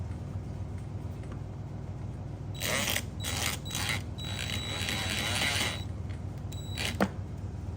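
Screws being driven loosely into a plastic handle mount on an Igloo Trailmate Journey 70 quart cooler, a few seconds of close ratcheting, grinding mechanical turning, ending in a sharp click.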